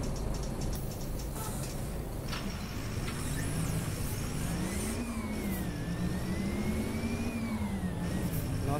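A faulty city bus engine revs loudly and continuously during a gear change, the pitch rising and falling in waves as the driver shifts, close and alone without talk.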